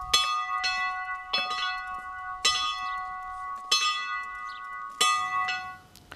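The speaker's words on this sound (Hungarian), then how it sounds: "hogyha megszólal a harang" Church bells ring in repeated loud, resonant strikes about every second or so, each stroke leaving a long ringing harmonic tail that overlaps the next, with no voices present.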